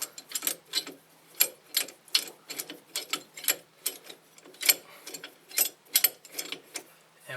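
An old C-clamp with a bat-wing end slowly pressing a brake caliper piston back on a 2008 Pontiac G5 gives a steady series of close, crisp clicking and ratcheting creaks, evenly paced and without speech.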